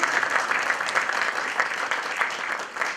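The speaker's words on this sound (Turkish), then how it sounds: "Ankara Hukuk mezunu, alkışlar Mustafa Yavuz Yalçın Kaya için." A small audience applauds at a small, early law-faculty graduation ceremony in Ankara, steady clapping that carries on without a break.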